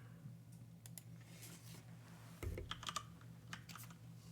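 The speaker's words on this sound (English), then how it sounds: "I don't know if I can reach my keyboard here." Quick irregular clicks of typing on a computer keyboard at a desk, a few keystrokes close and fairly soft, with one heavier thump partway through and no talking.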